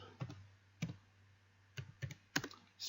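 Keys clack on a computer keyboard as a short command is typed, in a few quick, close, faint clicks with brief pauses between them.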